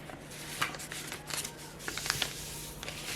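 A handmade Christmas card slid into place, heard as soft close paper rustles and light papery flicks scattered over a low steady hum, with no speech.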